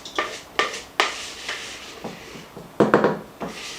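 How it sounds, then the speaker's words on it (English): A utensil scrapes and knocks in a bowl as apples are folded into a thick apple fritter bread batter. Several distinct clunks and scrapes come in an irregular rhythm, close and fairly quiet, with no one talking. "you're going to gently fold in these apples into your mixture"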